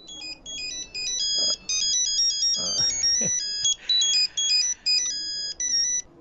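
Electronic mobile phone ringtone from a Telugu comedy film scene: a bright melodic beeping pattern repeating in short bursts with brief pauses, loud and close, with a little muffled voice and movement underneath.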